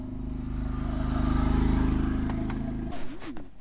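Motorcycle engine held at high RPM, a loud pulsing drone rising then cutting off sharply near the end, followed by brief clatter and a low revving tail.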